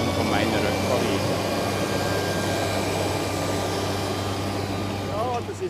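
A tractor pulling a loader wagon hums along with a steady, smooth, low engine drone and a constant mechanical whine, loud and close, with voices talking faintly over it.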